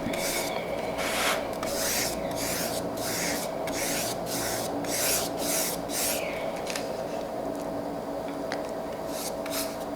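A small paintbrush paints the edges of an MDF base with a run of soft, close brushing strokes in a quick, uneven rhythm over a steady background hum, with no talking.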